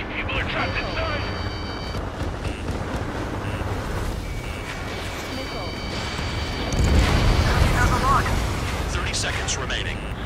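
Missile explosions from the Ace Combat 7 flight game, a steady roar of jet noise and blasts with a heavier boom swelling near the end, under game radio chatter.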